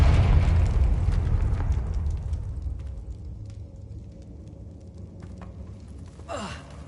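A Confringo fire spell in Hogwarts Legacy bursts with a heavy, rumbling blast that slowly fades, followed by a brief whooshing sweep near the end.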